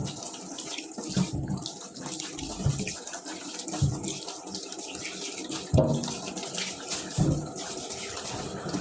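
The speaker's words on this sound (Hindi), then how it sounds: "तो चले जल्दी से धो लेते हैं अपनी सब्ज़ी" Tap water runs steadily into a sink while vegetables are washed, a close hissing flow with occasional splashes and clatter as the produce is handled.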